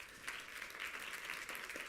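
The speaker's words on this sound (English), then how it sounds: "Big round of applause for Daniela." A conference audience applauds steadily for a person being welcomed, a dense, fairly faint wash of many hands clapping at a distance, lasting the whole short stretch without talk.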